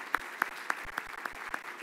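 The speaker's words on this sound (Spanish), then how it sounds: "Primero quisiera pedir un pequeño aplauso para nuestros panelistas." Small audience at a panel discussion on public development banks gives a brief, sparse round of applause, a few distinct claps in a steady rhythm, faint and without talk.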